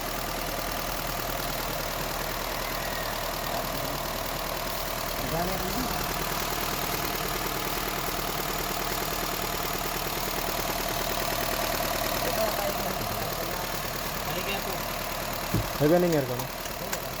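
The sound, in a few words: Honda City 1.5L engine idling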